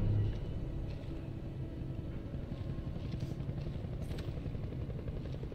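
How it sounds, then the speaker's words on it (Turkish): A helicopter in the video game Crysis 3 Remastered gives off a steady, loud rotor drone and engine rumble that holds throughout with little change, with no talking. "Abi helikopter falan var ya."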